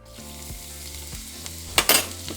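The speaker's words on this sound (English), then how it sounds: "So in the same pan, we're going to add our garlic." Garlic hits hot oil in a frying pan used for steak and potatoes, a close, steady sizzle with a sharp louder burst of spattering near the end.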